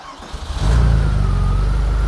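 A restored Porsche 964 Turbo fires up: a short cranking whir, then the engine catches at about 0.6 s and settles into a loud, steady, rumbling idle that carries on alone to the end.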